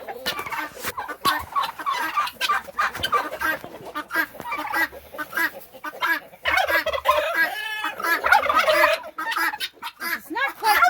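Turkeys gobble repeatedly alongside clucking fowl on a Smokey Mountain homestead processing day, a dense, continuous chorus of bird calls close by with loud bursts, and no talk.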